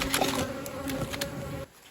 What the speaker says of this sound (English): This top one's a box of bees.